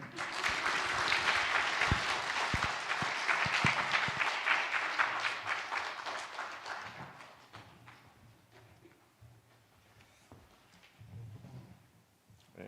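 A church congregation applauds during a Sunday worship service, with dense clapping loud and sustained for several seconds, then thinning out and fading into scattered claps and quiet room noise.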